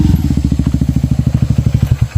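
A habal-habal motorcycle taxi engine runs up close with a steady, rapid, low putter of evenly spaced pulses, loud and alone.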